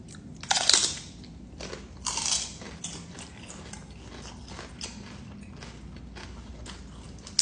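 Crisp crunching bites of celery topped with cottage cheese and mustard, two loud bursts early on followed by quieter, steady chewing close to the mic.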